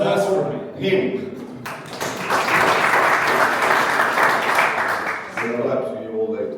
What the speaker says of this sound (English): Can we have some claps for you?